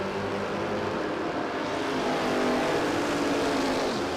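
A Holden Commodore and a Ford Capri race down the strip at Willowbank Raceway, engines roaring loud and continuous at high revs throughout, with no talking.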